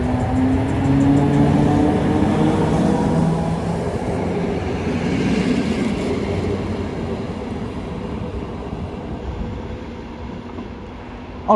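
A restored old train returned to service after ten years rolls along the rails near Hoevelaken, a loud, continuous rumble with rhythmic wheel noise that gradually eases as it slows.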